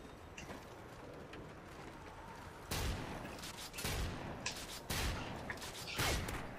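Shotgun blasts in Call of Duty: Modern Warfare 2, four loud bursts spaced about a second apart after a quieter stretch of game ambience.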